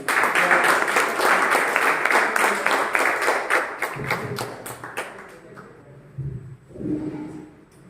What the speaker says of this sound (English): So please have a lot of applause, please.